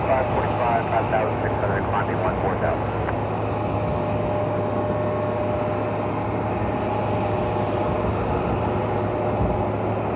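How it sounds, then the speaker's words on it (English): A Delta Connection CRJ regional jet touches down on runway 24 right at Cleveland airport, a steady, broad jet roar that fills the whole stretch, with voices mixed in. "And a Delta Connection CRJ touching down on runway 24 right."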